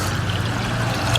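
Water pours steadily into an herbal remedy mixture with lime and aloe vera, a brief, close, continuous splashing stream with no talking.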